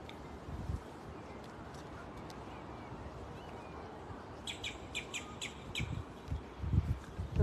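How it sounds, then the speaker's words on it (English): Birds chirp in short scattered bursts beside a tidal creek with a waterfront restaurant nearby, faint and somewhat distant over soft outdoor ambience, with a few dull low thumps near the end. "The birds are chirping."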